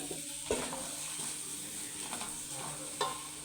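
Onion and tomato sautéing in a pan give a steady, close sizzle, with a couple of sharper scraping knocks from stirring; no one speaks.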